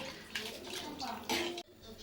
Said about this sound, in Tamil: ஒரு டம்ளர் அரிசிக்கு ரெண்டரை டம்ளர் தண்ணி சேர்த்திக்கிறேன்